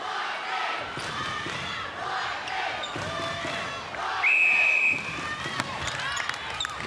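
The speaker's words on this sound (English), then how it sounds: "The chant rattles around UniSC Arena as it does" An arena crowd chanting at a Suncorp Super Netball match at UniSC Arena between Lightning and GIANTS, a steady roar of many voices with a whistle near the end and commentary over the top.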